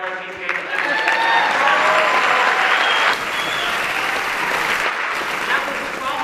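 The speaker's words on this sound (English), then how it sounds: "Clap it up for a guy like me paying that debt." A live audience in Chicago bursts into loud, sustained applause and cheering, dense clapping that fills the room and holds steady for several seconds.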